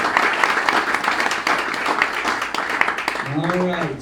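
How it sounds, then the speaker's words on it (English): An audience at a film festival award ceremony applauds the top films, with steady, moderately loud clapping throughout and voices talking over it, and a brief tonal squeal near the end. "give them a huge round of applause"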